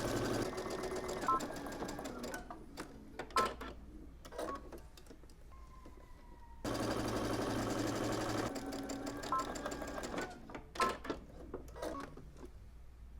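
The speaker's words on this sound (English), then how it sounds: "So, let's go ahead and take this over to the machine." A sewing machine stitches fabric up close in steady, rapid runs of mechanical clatter. Brief pauses and soft clicks fall between the runs, and one longer quiet gap comes before the stitching starts again.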